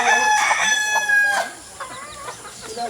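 A native rooster crows loudly and close by, its drawn-out call trailing off, followed by softer clucking from the chickens around it.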